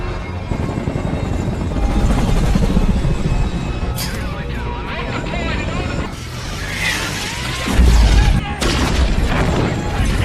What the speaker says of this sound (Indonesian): 2 helikopter bantuan muncul di atas persembunyian X dan Marcus